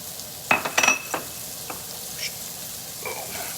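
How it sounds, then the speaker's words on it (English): Chopped shallot frying in leftover chicken juices in a pan gives a steady, soft sizzle, with a few sharp utensil clinks and stirring scrapes early on. "I'm going to put in, that's the shallot, and it's still nice and sizzling."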